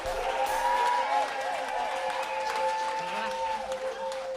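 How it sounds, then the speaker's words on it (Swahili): Congregation clapping together during a Sunday church service, a steady dense patter of many hands under singing and voices, continuous throughout. "Tupigie Bwana makofi"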